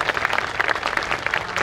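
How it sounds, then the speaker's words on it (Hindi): Crowd at a political rally for the Suheldev Rajbhar anniversary event clapping loudly together to welcome a colleague, a dense, steady burst of applause with no speech over it. "जोरदार ताली बजा करके साथी का स्वागत करिए।"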